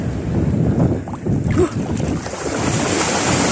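Waves slap against a small boat on murky open sea, with wind buffeting the microphone in a steady rushing wash of surf and spray close by.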